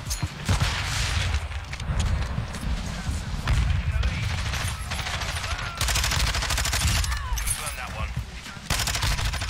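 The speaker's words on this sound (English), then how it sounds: "Oh, they're sniping it back in their spawn" Gunfire in Call of Duty Modern Warfare 2, including sniper rifles fired from a spawn area, as dense continuous bursts and booms filling the whole stretch, loud and busy with no clear gaps.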